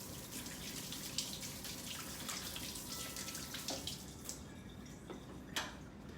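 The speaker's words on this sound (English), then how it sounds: "I'm gonna rinse my hands off." Kitchen tap running as hands are rinsed, a steady, fairly quiet rush of water with occasional splashes and drips, no voices.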